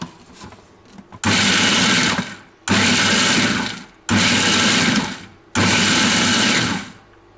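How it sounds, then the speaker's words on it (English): A food processor blends a healthier homemade hazelnut-style spread in four long loud runs, each motor burst whirring steadily before cutting off briefly between pulses. "And then we're just going to blend it."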